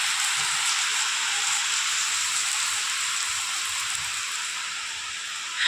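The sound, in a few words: heavy rain falling in Dehradun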